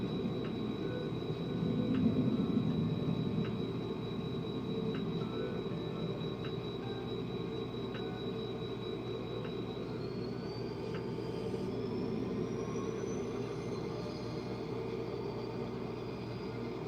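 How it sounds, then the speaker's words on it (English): A model railroad train runs along its track with a steady low rumble and faint regular clicks at rail joints, a quiet continuous hum without any voices. "Alright, now let's see if we can move the train now."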